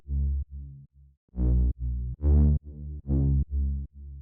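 A synth bass second layer, used to add width under a bass patch, plays a sequence of short, deep tonal notes with brief gaps between them, clean and fairly loud, with no voices.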